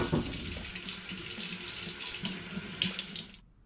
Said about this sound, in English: now I'm just going to give them a rinse to get any sticky residue off